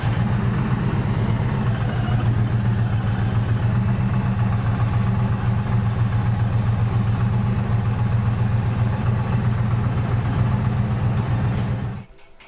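Indian Challenger motorcycle engine idling in a garage, a steady low throbbing rumble held close and loud for about twelve seconds before cutting off abruptly near the end.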